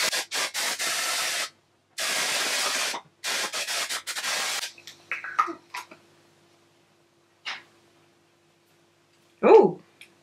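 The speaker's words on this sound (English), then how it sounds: "now that I'm spraying, it spray out real good, hard" Dark & Lovely intense color spray can spraying onto hair, giving three sustained close hissing bursts of about one to two seconds each, followed by quieter rustling, a soft hum and a brief vocal sound.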